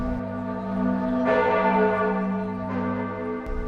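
A large church bell rings in the bell tower of Florence's cathedral, sustained and resonant, with a fresh strike near 1.3 seconds and another near 2.7 seconds over a long humming decay, no voices.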